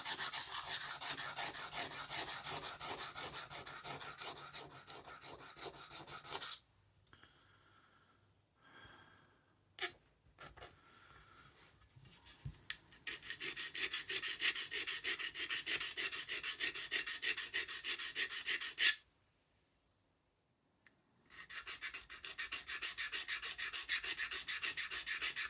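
An old Ka-Bar knife blade with a chipped edge is worked on a sharpening stone, a steady scraping rasp of repeated strokes that stops for a few seconds twice, then resumes.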